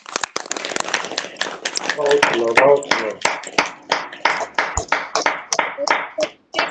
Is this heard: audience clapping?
yes